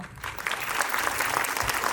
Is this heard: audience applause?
yes